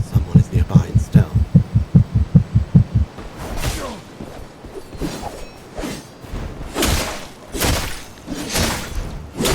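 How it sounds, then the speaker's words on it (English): Heartbeat cue in the video game Mistfall Hunter warning of a stealthed enemy nearby: a run of loud, steady low thumps for about three seconds, followed by whooshing game ambience. "That's a heartbeat. Someone is nearby in stealth."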